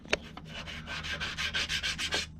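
A small wooden part for a model ship of HMS Bounty rubbed back and forth on sandpaper taped to a table, a steady run of rhythmic scraping strokes following a couple of sharp knocks, close and clear.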